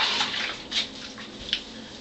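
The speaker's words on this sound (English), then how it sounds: "Again, this is cool water this time." Cool tap water runs for rinsing the face after a straight razor shave, a steady splashing flow with a few brighter spurts of water hitting the hands and sink.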